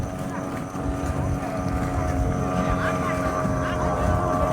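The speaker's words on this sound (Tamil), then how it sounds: "மூன்றாம் இடத்துக்கான படகு வந்து கொண்டிருக்குது" A 40-horsepower racing motorboat draws near during a sea boat race off Point Pedro, Jaffna, its steady engine drone and hull rumble holding loud and continuous throughout, with wind and water noise around it.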